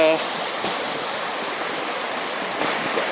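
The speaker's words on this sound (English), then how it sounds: "water from the stream to boil up" Stream flowing on Dartmoor in icy winter conditions near Postbridge, a steady broadband rush of water with a little wind, continuous and moderately close.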